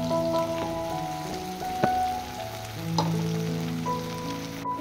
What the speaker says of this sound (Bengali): আলু আর টমেটোগুলোকে হলুদ লবণ দিয়ে ভেজে নিচ্ছি